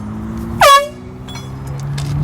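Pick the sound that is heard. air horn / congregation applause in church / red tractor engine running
air horn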